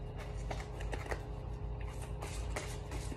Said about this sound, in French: Je vais vous tirer une petite carte de l'oracle de ma maman.